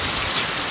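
Heavy rain drives down with wind, a dense, even wash of drops hammering surfaces, loud and continuous with no voices.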